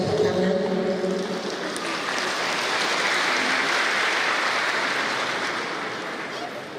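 Audience applause at a university graduation ceremony in Indonesia, where a talking voice at the start gives way to a full, steady round of many people clapping that slowly eases off.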